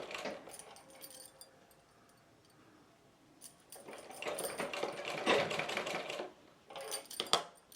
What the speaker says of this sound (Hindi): थोड़ा सा ऊपर की ओर तक भी मिलाते हुए हम सिलेंगे इसे।